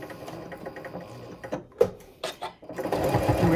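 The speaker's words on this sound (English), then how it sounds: "And we're just going to sew around." A sewing machine runs in close bursts as it stitches around a fabric soup bowl cozy with a quarter-inch foot. It pauses briefly between runs, then settles into a steady, louder whir toward the end.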